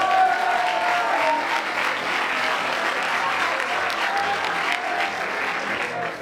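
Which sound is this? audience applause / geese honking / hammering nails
audience applause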